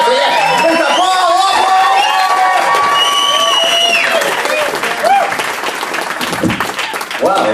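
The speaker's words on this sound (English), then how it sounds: "we'll start with a ripple of applause in this end here of the audience" Audience in a large hall at a Bettakultcha Leeds talk night breaks into loud, sustained applause with whoops and cheers rising on top, a dense wall of clapping and shouting that stays strong throughout.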